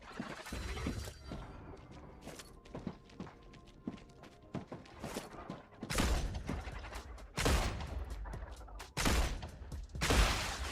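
In the sci-fi video game StarRupture, loud bursts of gunfire crack out in irregular volleys, with quieter mechanical clicks and thunks between the heavier shots toward the end.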